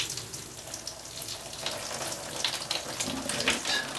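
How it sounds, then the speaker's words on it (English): Liquid is poured over and into the brain cavity of a giant bison skull being cleaned for taxidermy, a continuous close splashing and trickling that runs off into a pan, swelling slightly toward the end. "pour a bit into this brain cavity here, which will run mostly out"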